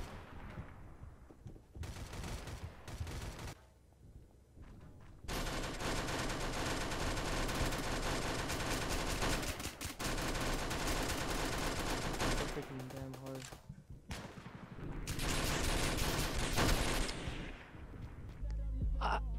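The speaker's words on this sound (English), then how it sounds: "We shot him so freaking much and he's still not dead." Dense, sustained gunfire from the Roblox shooter Oof Brigade rattles in long loud volleys with short pauses between them, with voices talking over the shooting at times.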